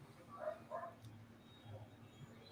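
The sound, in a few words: dogs barking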